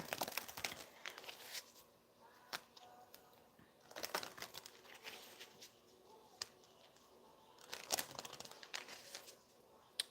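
Papery card shuffling with crisp riffles and soft slaps, repeating in bursts every few seconds, close up and fairly quiet.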